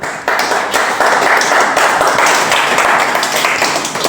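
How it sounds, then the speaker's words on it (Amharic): Audience applause at a literature enthusiasts' program in Ethiopia, steady dense clapping from many hands sustained for about four seconds, loud and close with no voices over it. "ጭብጨባ ይገባዋል አይደል እንዴ?"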